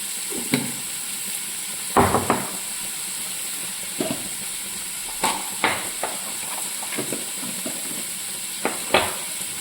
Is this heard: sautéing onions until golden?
yes